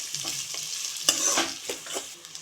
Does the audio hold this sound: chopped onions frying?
yes